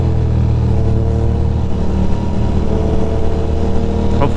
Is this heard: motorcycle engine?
yes